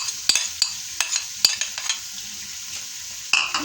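Ginger and garlic paste hitting hot oil for a kaleji recipe, a bright hissing sizzle with several sharp spattering crackles and light spoon taps, close and without talk.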